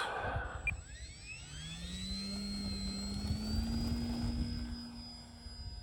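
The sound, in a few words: E-flite Valiant RC foam airplane taking off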